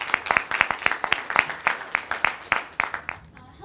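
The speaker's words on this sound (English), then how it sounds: "why don't we give him a round of applause?" An audience applauds after a team presentation at an investment challenge event, a moderate burst of uneven hand clapping from a small crowd that thins out at the end.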